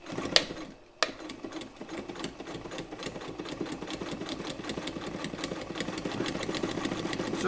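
Frister & Rossmann 35 sewing machine, modified for heavy duty work with a 0.445 amp motor, stitching through two layers of fabric; a fast steady mechanical chatter after a couple of clicks, close and alone.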